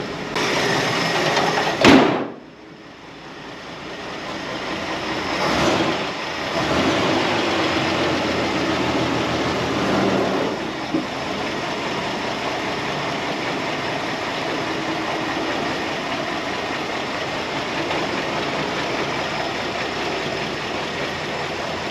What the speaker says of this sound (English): This thing's running like on 5 cylinders or maybe 4